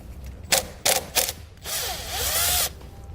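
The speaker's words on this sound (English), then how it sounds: "Disconnect the nut using a 12mm socket." A 12mm socket on a ratchet loosens the battery terminal nut of a 2013 Kia Sportage. Three quick ratcheting bursts come first, then a longer steady run of pawl clicking lasting about a second, close and loud, with no voices.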